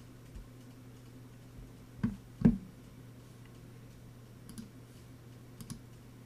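A few faint, quiet clicks on a computer, two close together near the middle and a couple of softer taps later, over a low steady hum with no talking.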